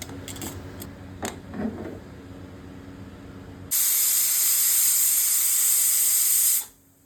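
A pressure cooker cooking khichuri lets out a loud, steady hiss of escaping steam for about three seconds before cutting off, preceded by quieter kitchen clatter.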